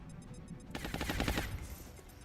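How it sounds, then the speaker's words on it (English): Sniper rifle fire in the video game XCOM Long War, a rapid burst of sharp, loud shots in quick succession lasting under a second, followed by a decaying rumble. "Finally, potential multi-shots from our sniper."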